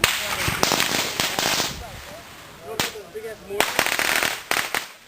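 Firecrackers bursting on a residential street during 4th of July celebrations, a run of sharp cracks and pops at irregular intervals, some in quick clusters, with people chatting in between.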